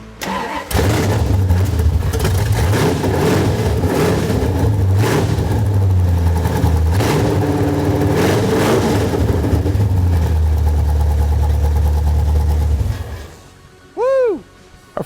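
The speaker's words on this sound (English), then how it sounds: "Our Ford Racing crate engine sounds absolutely sick with the open headers." A Ford Racing 306 cubic inch crate engine running with open headers, a loud, steady, rough-edged roar held for about twelve seconds before cutting off abruptly, followed by a brief rising whoop of voice.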